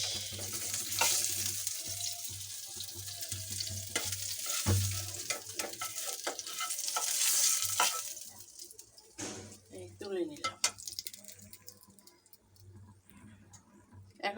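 Bottle gourd peel fries in a pan with a bright, steady sizzle and clattering stirs, close by; the frying fades partway through, leaving scattered clicks and a voice talking.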